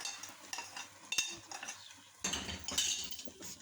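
A spoon stirs and scrapes semolina barfi in a metal pan just after syrup is poured in, with clinks, scraping strokes and a soft sizzle, close and fairly quiet, no talking.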